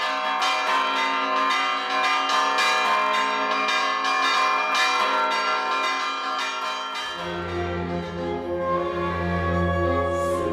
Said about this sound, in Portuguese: os sinos da Igreja São Francisco ainda hoje participam da tradicional Batalha dos Sinos